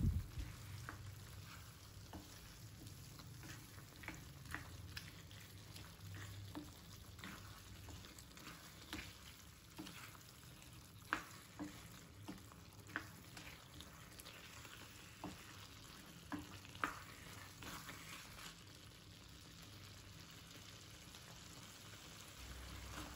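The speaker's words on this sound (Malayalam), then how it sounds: "എത്ര നന്നായിട്ട് ഉടച്ചെടുക്കാൻ പറ്റുമോ അത്രയും നന്നായിട്ട് ഉടച്ചെടുക്കുക." Cooked vegetables for Mumbai-style pav bhaji being mashed in a hot pan, a steady soft sizzle with repeated irregular scraping and pressing thuds throughout.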